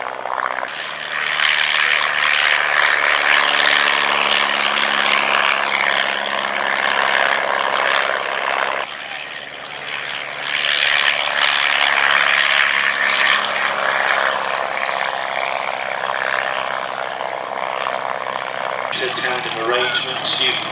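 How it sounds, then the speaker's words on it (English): Vintage de Havilland Chipmunk and Miles Magister propeller trainers flying at a Shuttleworth Collection airshow, a loud steady engine drone that dips briefly and swells again, with a voice talking over it throughout. "with the de Havilland chipmunk from the collection, and two Miles Majesty variants, also from the well-famous Shuttleworth Collection"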